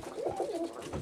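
A soft, low coo from roller pigeons in a loft rolls briefly over faint background noise, close and gentle.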